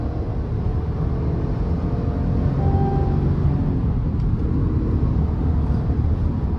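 A GMC Yukon SLE with the 5.3 V8 accelerates on a highway, heard from inside as a loud, steady low engine and road rumble that builds slightly and carries on with no talking.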